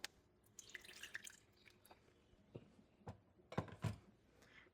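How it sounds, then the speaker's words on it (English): Water trickles and drips into a pot of curry as it cooks, a short stretch of quiet splashes and drops heard close up. "So let's add some water."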